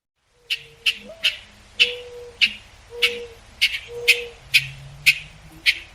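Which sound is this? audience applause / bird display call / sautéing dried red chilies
bird display call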